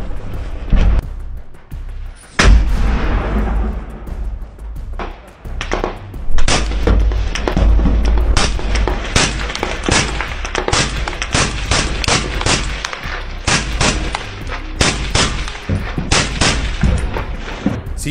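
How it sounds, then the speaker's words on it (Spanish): A Ukrainian soldier fires a sniper rifle in Bakhmut, sending sharp, loud cracks at irregular intervals with a heavy low thump, other gunfire crackling densely throughout. "resulta impactante escuchar los disparos efectuados por el soldado ucraniano"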